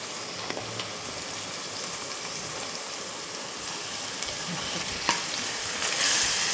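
Seven or eight finely chopped onions sizzle and fry in oil for street-style pav bhaji, a steady close crackle broken by occasional stirring scrapes, with no voices.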